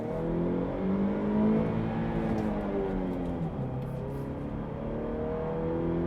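A 2018 GMC Canyon work truck with a 2.5 liter Ecotec engine and manual gearbox accelerates, its steady droning engine note rising in pitch and then easing as it shifts, heard from inside the cab with no talk.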